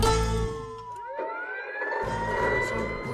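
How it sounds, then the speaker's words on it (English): Fire truck siren in a video game, loud and close, its wailing tones sweeping up and down over the rumble of the engine with no talk. "The second one's a siren actually."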